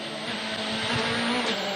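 WRC rally car of Latvala struggling for grip on slippery, muddy tarmac at Rally Spain 2012: a loud, continuous engine roar with a strained, wavering high note throughout.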